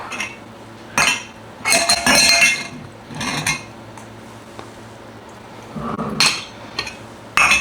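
Glass jars clink and knock in a handful of sharp bursts while beetroot is packed in brine for preserving, loud and close with quiet gaps between, over faint background hum.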